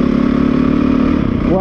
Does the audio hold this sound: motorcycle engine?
yes